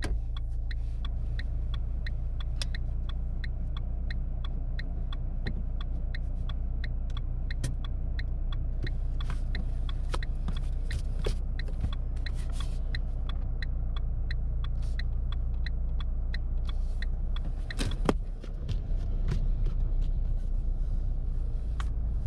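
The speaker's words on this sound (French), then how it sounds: "tu peux réallumer le véhicule" A car engine rumbles steadily from inside the cabin during a driving lesson, a low continuous drone under a rapid, regular ticking, with a brief dip and swell as the car pulls away again.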